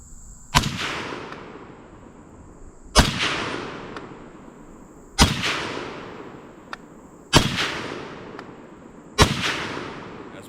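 An M1 carbine firing Lake City 1972 military surplus ammunition, five sharp loud shots spaced about two seconds apart, each with a ringing echo tail outdoors, no talking.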